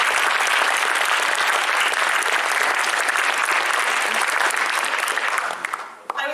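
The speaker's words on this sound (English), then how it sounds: "So let's give a round of applause for the chairs this week." Sustained, dense applause from participants at a Model Arab League youth leadership program honoring the conference chairs, holding steady and loud before tapering off with a few last claps.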